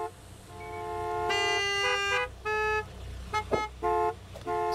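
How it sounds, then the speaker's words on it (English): Car horns honking at a gas station in the Gas Station Simulator video game, a sustained blare followed by several short repeated toots, loud and insistent. "they're constantly honking!"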